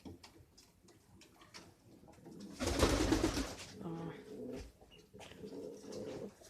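A bird near its nest gives soft, faint cooing calls against quiet surroundings, with one fuller, louder burst partway through.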